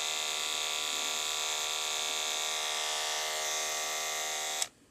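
Conair HC240KD electric hair clippers with a repaired power cord, running with a steady close buzzing hum that holds constant for several seconds before cutting off abruptly.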